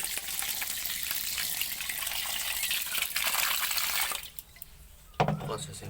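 Water pours and splashes steadily while flour dough is washed by hand, close and hissy. It cuts off abruptly, then a short slosh follows.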